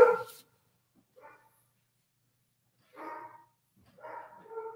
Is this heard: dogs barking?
yes